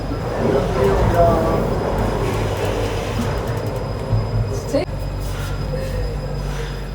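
A zoo train runs at a station in a large French zoo park, with a steady rumbling rolling noise and a brief screech partway through, while people talk nearby.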